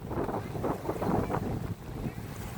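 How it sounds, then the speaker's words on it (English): Steady wind buffeting the microphone at a lakeside park in Big Bear, a continuous low roar with gusty swells and no clear voices. "But wind sounds the same everywhere. It sounds windy."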